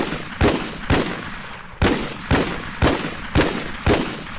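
A video game shotgun fires eight loud blasts at a steady, slightly uneven pace, each shot a sharp crack with a short decaying tail, heard alone without talk.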